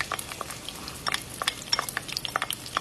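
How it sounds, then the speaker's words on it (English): Butter and freshly chopped onions sizzling in the bottom of a skillet, a steady crackle with scattered sharp pops, close and fairly quiet, no voices. "Put that in the bottom of your skillet and just listen to that sizzle."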